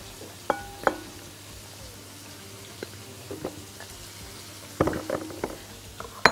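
Zucchini goes into a pan of oil and butter with black pepper and salt, giving a soft, quiet sizzle with scattered clinks and taps of pieces landing and utensils, louder near the end.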